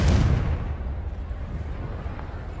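Confringo fire spell cast in the video game Hogwarts Legacy, a sharp explosive burst at the start that fades into a rumbling low tail, loud and close with no talk over it.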